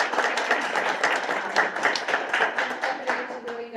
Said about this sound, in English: if you guys want to give a round of applause to your families.